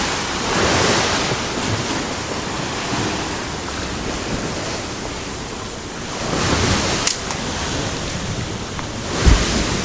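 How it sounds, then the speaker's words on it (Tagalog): Rough sea surf pounds the shore of an abandoned resort, a continuous loud wash of breaking waves with gusts of wind buffeting the microphone and no voices. "galit yung dagat guys"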